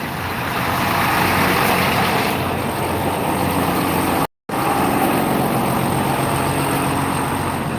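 Old Thomas bus engines idling after a cold start, a steady, loud diesel rumble with a brief cut in the middle and no talking.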